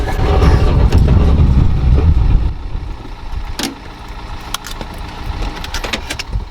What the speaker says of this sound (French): Il y a un truc qui traîne sous la voiture.